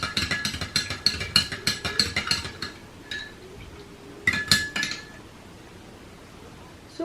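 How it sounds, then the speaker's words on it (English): A spoon stirs a drink in a glass, giving a quick run of bright clinks and taps for about three seconds, then a pause and a second short burst of clinking. The sound is close and clear with no talking. "And just mix it. Try to mix it very well."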